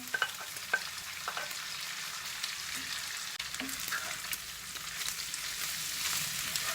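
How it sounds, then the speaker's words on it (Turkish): Sliced bell peppers tossed into a pan of sizzling chicken fajita, a continuous close frying hiss with soft stirring scrapes throughout. "Biberlerimi de ekliyorum"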